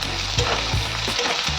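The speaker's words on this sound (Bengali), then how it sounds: "এখন মিডিয়াম ফ্লেমে পেঁয়াজগুলোকে লাল লাল করে ভেজে নেব" Sliced onions frying in hot oil in a pan over a medium flame, a steady close sizzle with several short stirring scrapes, no talk.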